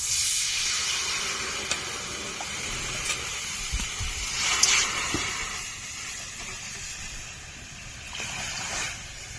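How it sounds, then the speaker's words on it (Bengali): Water poured into a hot kadai while cooking a soybean curry hisses and steams loudly and steadily throughout, with a few small pops and crackles rising over the continuous sizzle. "কড়াই বসিয়ে দিয়েছি কড়াই গরমও হয়ে গেছে দিয়ে দেব জল"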